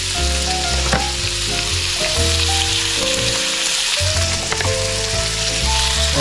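Garlic fries in butter in a pan, a loud, dense, close sizzle that crackles continuously, with a steady hum of background music underneath and no talking.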